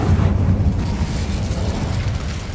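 Fire spell blasts from Confringo and Incendio in a wizarding video game rumble out as a dense, muffled explosive burst that churns low and steady through the short stretch.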